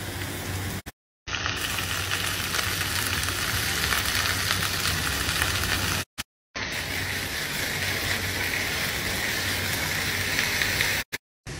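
Okra fries in a pan for a Pakistani-style dish, a steady, loud, dense sizzle like heavy rain that goes on for many seconds while it is stirred, with two short breaks.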